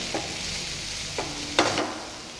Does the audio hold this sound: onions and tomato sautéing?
yes